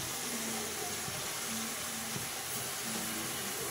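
Leafy greens and soft vegetables sizzling in a hot pan, a loud, dense, continuous hiss that stays even from start to finish, with no voices.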